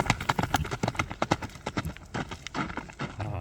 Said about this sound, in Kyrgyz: Мына достор, минилип турган ат экен